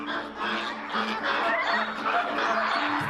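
A dense flock of flamingos calls at once, a continuous chorus of honks and grunts at moderate volume with no gaps.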